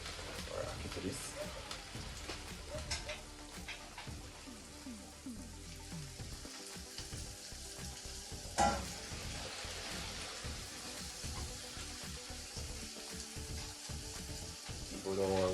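Ackee and red herring fry and sizzle in a pan while being stirred, a steady faint crackle with scraping of the spoon, cooked the Jamaican way.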